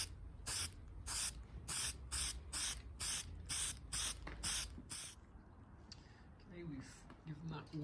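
Eastwood rust encapsulator sprayed from an aerosol can onto the rear axle of a Mercedes 107 SL: about eight short, even hissing bursts in a steady rhythm, close by, followed by quieter handling sounds.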